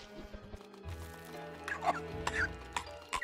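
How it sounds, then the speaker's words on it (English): A game bird in Don't Starve gives a few rough, hacking coughs and throaty clucks in short bursts, fairly close, with faint background tones. "Why's my bird coughing and dying?"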